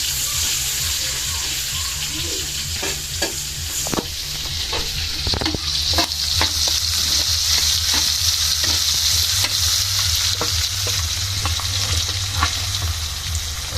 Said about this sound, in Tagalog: bali magigisa na po si Kuya ng bawang at sibuyas